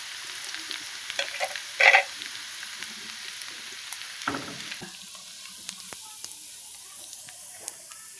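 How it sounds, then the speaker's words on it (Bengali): Semolina sitabhog frying in hot oil, a soft continuous sizzle and hiss with a brief louder clatter near the start and scattered crackles and pops, close by. "খুব বেশি লাল করব না, হালকা ভেজে তুলে নেব।"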